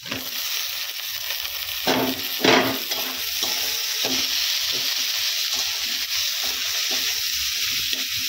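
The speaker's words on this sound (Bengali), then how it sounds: "একটু হলুদ গুঁড়ো দিয়ে দিচ্ছি। এবারে দিয়ে দিব টমেটো কুচি।" Chopped tomato with turmeric fries in a pan with a steady close sizzle, joined by a few louder hissing bursts and stirring scrapes as the ingredients hit the oil; no voices.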